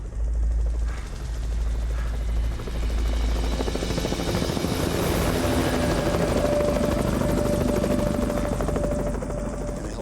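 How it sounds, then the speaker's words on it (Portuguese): A helicopter's rotor thumps and roars continuously for the whole stretch, loud and steady, seemingly passing close overhead, in a snowy setting. "o helicóptero parou e começou a procurar com o holofote."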